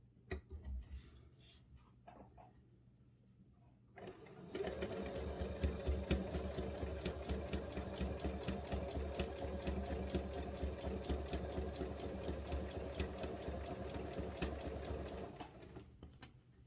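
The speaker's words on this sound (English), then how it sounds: "I'm just going to keep stitching all my little square pieces here" A sewing machine stitches small square, diamond and triangle fabric pieces together for a machine cover, running in a steady, rapid whir after a few quiet seconds and stopping just before the end.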